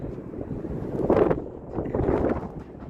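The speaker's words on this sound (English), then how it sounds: "it's very, very windy." Strong wind buffets the microphone in a steady, rumbling roar that swells and eases, with no voices.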